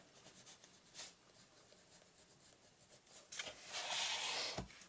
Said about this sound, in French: je vais écrire to-do list